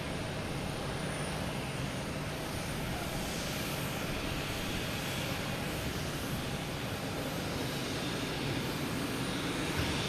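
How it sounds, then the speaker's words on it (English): A JetBlue jet takes off at Boston Logan Airport, its engines giving a loud, broad, unbroken roar that holds steady for the whole stretch, with no talking over it. "should have that JetBlue taking off any second now"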